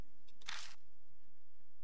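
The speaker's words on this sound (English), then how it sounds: "I hang up the phone." A phone is hung up in a Japanese horror visual novel game, a single short, crisp click-clack burst, then quiet room tone.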